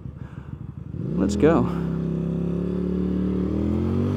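A QJMOTOR SRV300S cruiser motorcycle accelerates in first gear, its engine note climbing steadily and loud up close as the revs rise, with a rider speaking briefly near the start.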